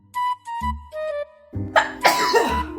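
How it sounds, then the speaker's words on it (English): A person with allergies gives a stuttering buildup toward a sneeze, with short strained breaths and throaty catches that end in a harsh, breathy huff, close and alone. "The sneeze is literally right there."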